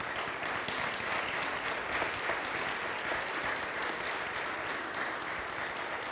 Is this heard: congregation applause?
yes